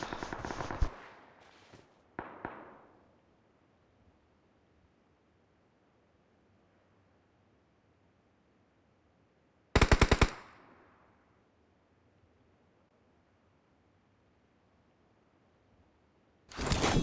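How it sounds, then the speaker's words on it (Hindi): Gunfire in the mobile battle royale game BGMI: short loud bursts of automatic fire at the start, around two seconds, near ten seconds and again at the end, with quiet game ambience between. "हमको रिकॉल से फायरिंग के साउंड्स आते हैं।"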